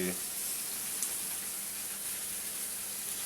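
Khramuli fish fries in plenty of very hot oil over a high gas flame, making a faint, even, continuous hiss with soft crackles.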